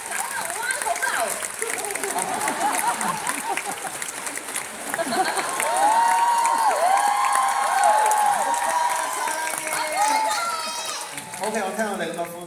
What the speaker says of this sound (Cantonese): 我聽我哋咁多歡呼聲